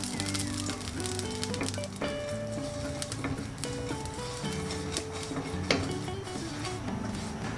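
Oil brushed into a hot pan for semolina vegetable pancakes sizzles steadily and densely, with occasional clinks of utensils, all set against a continuous background of music.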